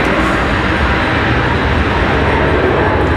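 A FedEx Boeing 767 taxis toward its terminal at Raleigh-Durham International Airport on a windy day, its engines producing a loud, continuous broadband roar that holds steady throughout.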